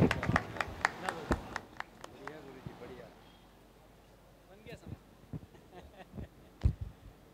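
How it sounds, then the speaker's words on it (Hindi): Audience claps opening a Hindi poetry recital (kavi sammelan) in Harda, a burst of scattered sharp claps that thins out, then a few more claps return later. "अपने दोनों हाथों को आप उठा करके इस कवि सम्मेलन का शुभारंभ करें, जोरदार तालियों की गड़गड़ाहट के साथ"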